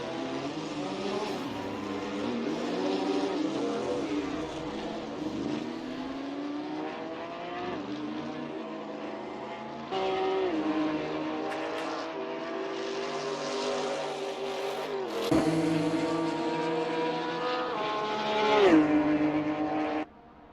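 Porsche 911 GT3 racing in Assetto Corsa: a high-revving engine climbs through the gears with repeated upshifts, then drops and rises again under braking and acceleration, loud and close the whole way.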